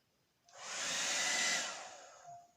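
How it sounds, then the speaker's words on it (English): A blow dryer switches on and roars steadily for about a second and a half as it blows paint across paper, then winds down, heard alone and fairly close. "you take your blow dryer"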